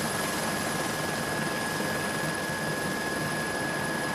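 Steady, loud helicopter rotor and engine drone hovering overhead while filming a cycling road race, the 4 Jours de Dunkerque stage near Longuenesse and Saint-Omer, continuous throughout with no pauses.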